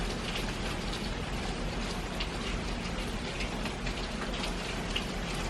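Steady, faint rain falls at the Animal Kingdom Lodge in Walt Disney World, an even patter of drops with no break and no voices.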